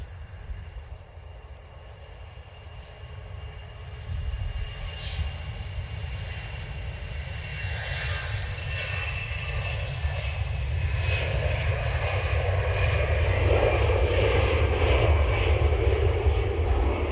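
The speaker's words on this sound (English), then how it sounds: "Next departure on the roll is EasyJet, an A320 to Venice." An EasyJet Airbus A320 departing for Venice rolls down the runway at Manchester Airport, its engines building from a low rumble into a steadily louder roar over several seconds, heard from a distance without speech.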